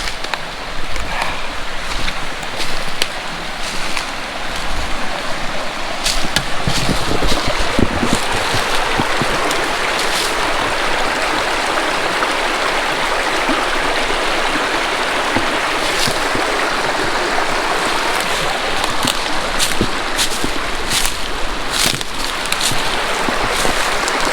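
Creek water flows steadily in a shaded spot, a continuous broadband rush of moving water, close and fairly loud throughout with no talking.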